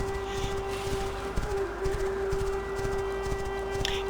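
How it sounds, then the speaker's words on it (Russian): Horse hooves clip-clopping in The Quinfall video game as the horse is ridden along, a steady rhythmic beat of footfalls under a sustained tonal drone. "я вот так лошадь ставлю и еду сюда"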